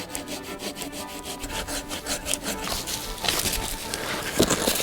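A Leatherman multitool saw cuts notches into a log for a log cabin, giving a steady, loud back-and-forth rasp of teeth on wood that grows rougher and more intense toward the end.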